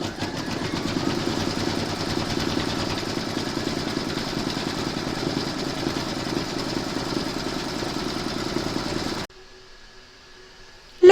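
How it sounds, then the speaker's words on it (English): An embroidery machine stitching an in-the-hoop coaster gives a steady, fast mechanical whirr and needle chatter at a constant level for about nine seconds, then stops abruptly into near silence before a brief final clunk. "Pop your hoop into your machine and stitch round number 3 to secure it."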